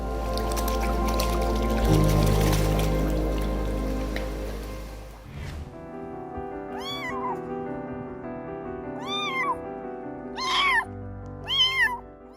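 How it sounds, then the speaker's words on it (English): Steady noisy rumble first, then a homeless kitten gives four loud, high meows spaced a couple of seconds apart, close by, over a low hum. "this little homeless kitten loudly cried for help"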